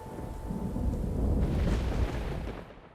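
Video game rain and thunder: heavy rumbling thunder rolls beneath steady rain, building to a loud sustained roar before fading toward the end.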